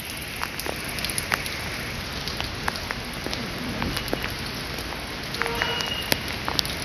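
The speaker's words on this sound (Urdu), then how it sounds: "میں خود پانی میں بارش میں کھڑا ہو کے ویڈیو بنا رہا ہوں" Rain falls steadily on flooded, waterlogged ground, a dense even patter of close drops and small splashes without a break, with no voices heard.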